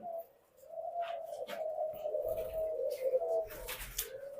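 White ringneck doves in a dove farm aviary give soft, continuous rolling coos close by, with faint chirps and rustling around them.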